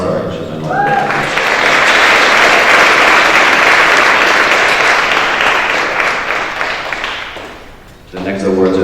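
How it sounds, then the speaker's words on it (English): An audience at a school academic awards assembly claps for instrumental music award winners; a voice speaks briefly, then dense applause swells, holds and tapers off before speech resumes. "Let's give a round of applause to our instrumental awards."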